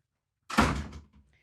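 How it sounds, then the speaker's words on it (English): A door closes in a single solid thud, close and fairly loud, after a moment of silence, followed by a brief fading rattle. "close the door"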